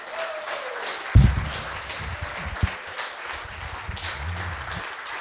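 An audience applauds at a farewell celebration in a room: a soft, sustained patter of clapping with a brief louder thump near the start.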